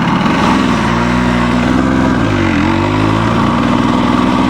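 A 1984 Yamaha RS 125 two-stroke motorcycle engine runs steadily nearby, a loud rough idle that rises briefly in pitch as it's revved, then settles back.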